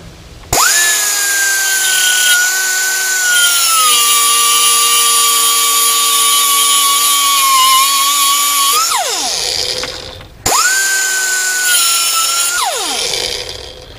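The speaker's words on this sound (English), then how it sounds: "especially if you've got a grinder" A grinder cuts the excess steel cable off a swaged ferrule, loud and close, with a steady high whine for about eight seconds, then a brief pause and a second shorter burst as it winds down.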